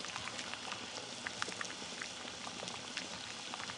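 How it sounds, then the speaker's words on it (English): Water boils in a pot with a glass inside it, a dense steady bubbling and popping that is close but soft, continuous and without speech. "But clearly the water is boiling outside and not inside the glass."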